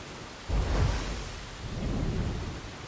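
Rain and thunder in the video game Enshrouded: a low rumble of thunder swells after a steady hiss of rainfall, then a second softer roll follows, with the rain continuing throughout.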